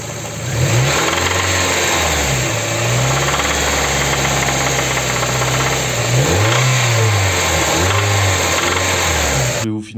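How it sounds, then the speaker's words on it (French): A Mazda MX-5 engine with a failed connecting rod revs loudly and unevenly, rising and falling several times with a harsh, rattling knock running through it. "ce moteur, il a une bielle qui est morte. Genre, il claque, il claque."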